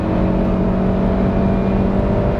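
A Suzuki Ignis 1.2 engine pulls hard at full power in third gear, a loud, steady, droning in-cabin roar that holds without a break.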